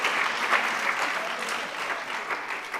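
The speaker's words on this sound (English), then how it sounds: "Let's give him another big round of applause." Steady applause from a crowd at a memorial service, dense clapping that holds at an even level throughout without pause.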